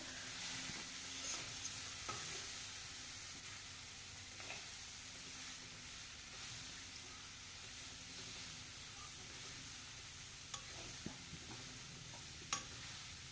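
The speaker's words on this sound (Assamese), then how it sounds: "এতিয়া মই এনেদৰে কলডিলখিনি অলপ সময় ভাজি ল'ম।" Chopped banana flower frying in a pan, with a steady close sizzle and hiss and occasional scraping taps of stirring throughout, with no talking.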